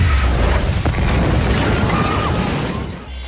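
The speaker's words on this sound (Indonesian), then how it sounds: "Sayangnya, mereka terlambat dan bom pun meledak." A film bomb detonating, a loud sustained low boom with debris and rumble filling the whole stretch, tapering off near the end.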